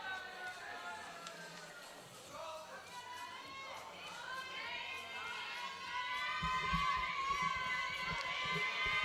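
Crowd at a world armwrestling championship finals in a hall, a dense wash of cheering and shouting that keeps building and grows louder and fuller toward the end, with voices layered throughout.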